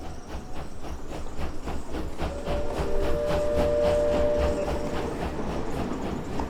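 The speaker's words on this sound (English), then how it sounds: "I wonder about that train that keeps going back and forth." A train rolls along its track in the Indiana Jones and the Great Circle video game, with a continuous rumbling roar, steady rhythmic clickety-clack of wheels and a faint metallic squeal, loud and close throughout with no voices.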